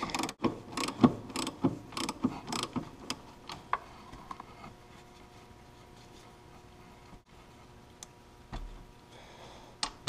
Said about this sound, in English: And then we're gonna loosen this top nut.